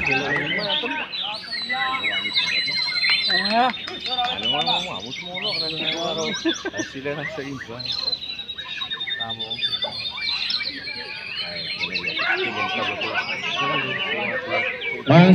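White-rumped shamas chirp and whistle in busy, overlapping song throughout a songbird contest, with people talking over it and steady background noise.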